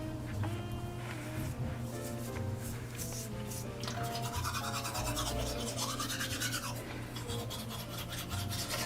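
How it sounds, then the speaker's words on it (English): Teeth brushed with a wet toothbrush and a little baking soda, a steady close scrubbing rasp that runs unbroken for the whole stretch, with faint background hum and no talk. "So sometimes I'll put a little in my hand, wet your toothbrush, and just do like this."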